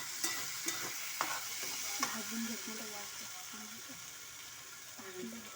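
Onions roast in a pan with a faint, soft sizzle, and a utensil scrapes and knocks against the pan in several sharp stirring clicks. The cooking is fairly quiet throughout.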